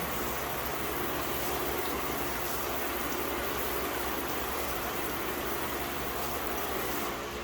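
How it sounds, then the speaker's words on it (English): Water from a garden hose on its shower setting spraying onto a car hood coated in ceramic spray, a steady, dense hiss of droplets without pause. "We'll hit it with the shower settings."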